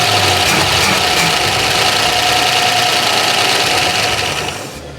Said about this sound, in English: But this motor sounds quiet.